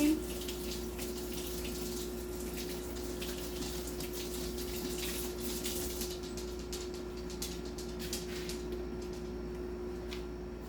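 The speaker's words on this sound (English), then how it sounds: "I'm just going to rinse off my spoon so I can reuse it for the sour cream." A spoon is rinsed under a running kitchen tap, with a steady stream of water splashing continuously and fairly close for around ten seconds.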